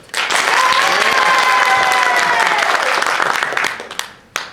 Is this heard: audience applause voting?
yes